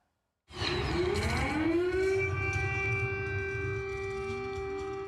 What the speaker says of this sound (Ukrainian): Ранок у Варшаві починається з гучної повітряної сирени